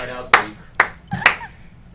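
An applause sound effect fired from the studio board during a live café show comes out as just three sharp, separate claps, evenly spaced about half a second apart, with quiet gaps between them.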